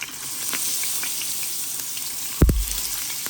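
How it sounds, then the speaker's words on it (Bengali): Fish frying in a pan of hot oil, a steady crackling sizzle near the mic, broken by a sharp clatter of a utensil near the end. "মাছটারে আমি ভাজি দিছি।"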